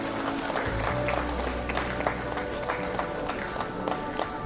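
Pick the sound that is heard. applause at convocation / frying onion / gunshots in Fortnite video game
applause at convocation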